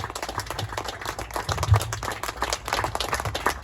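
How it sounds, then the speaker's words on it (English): A small audience at a live event claps in a brisk, uneven patter of hands, fairly close and moderate in volume, continuing throughout without talk. "that's the longest applause I've had"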